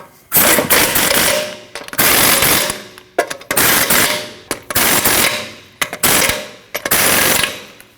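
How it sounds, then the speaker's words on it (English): An impact wrench tightens the lug nuts on a front wheel of a Nissan NV2500 van during a brake job, firing five loud, close rattling bursts of roughly a second each, with short silent gaps between them. "Now tighten down all your lug nuts."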